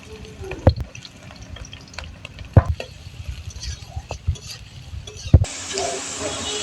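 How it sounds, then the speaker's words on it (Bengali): Chopped onions frying in white oil in a wok, a soft steady sizzle with several sharp clanks and scrapes of a spatula against the pan, ending in a louder burst of hiss. "এখন পেঁয়াজ কুচিগুলো ভেজে নেব।"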